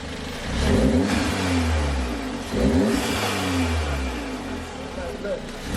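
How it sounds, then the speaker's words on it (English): Close, loud revs from an Audi S3 with a carbon fiber air intake: two strong throttle blips rise and fall over a rumbling idle, with voices faintly underneath. "Give us a few revs."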